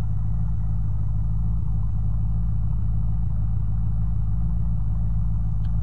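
A car engine in the zombie survival game Unturned rumbles steadily at a low pitch while being driven, a constant loud droning hum with no voices.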